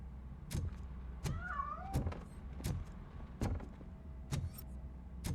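A cat meows in the video game Robocop Rogue City, giving a short, rising cry amid a series of sharp, evenly spaced knocks and thumps in a quiet interior, with no talk.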